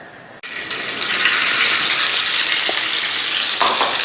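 Bread slices toast in a hot pan for an egg-bread breakfast. A loud, steady sizzle starts abruptly after a brief quiet moment and continues evenly at close range, without talk.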